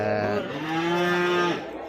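A Boer goat at a livestock market lets out a single drawn-out, loud bleat close by, holding a steady tone before breaking off abruptly.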